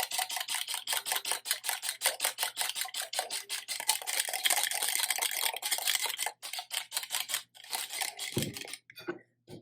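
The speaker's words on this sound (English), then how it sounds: "this is with a whisk. And because I do it slowly, I add the oil slowly, it really makes a nice creamy consistency" A whisk beating oil into a vinaigrette in a bowl, rapid rhythmic metallic clicking strokes, close and fairly loud, with a brief pause and a knock near the end.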